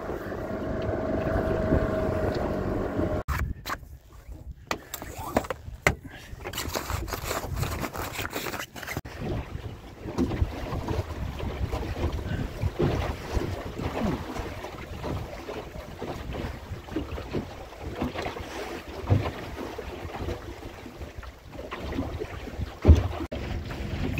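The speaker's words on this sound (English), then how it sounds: "There's even some wind, so I think I might try and do a bit of sailing." Small sailing dinghy cruising under sail in a breeze, water swishing and slapping against the hull with gusty wind buffeting the microphone, occasional knocks and rigging clatter, steady and fairly close throughout.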